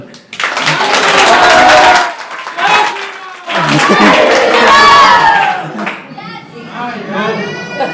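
Villagers clap together in a lively crowd, with shouts, chatter and children's voices mixing over the claps in loud bursts that fade and return.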